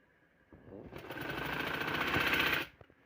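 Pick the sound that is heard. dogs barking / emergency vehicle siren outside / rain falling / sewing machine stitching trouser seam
sewing machine stitching trouser seam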